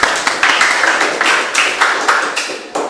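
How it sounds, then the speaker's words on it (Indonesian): A small group, likely a classroom, claps at close range in a quick, slightly uneven rhythm, each clap sharp and loud, sustained for a few seconds without talk. "Ya, terima kasih tepuk tangan"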